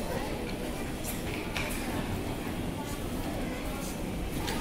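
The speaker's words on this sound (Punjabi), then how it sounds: "ਇਹ ਸੀਗੀ ਸਾਡੀ ਟ੍ਰੇਨ" Train at the railway station in Patna Sahib, a steady, loud broadband rumble and hiss that runs unbroken throughout, with faint voices mixed in.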